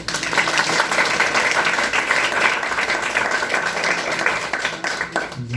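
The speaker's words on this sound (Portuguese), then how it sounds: "pedir para vocês uma salva de palmas" A dense, steady burst of audience applause, many hands clapping together loudly and continuously before fading at the end.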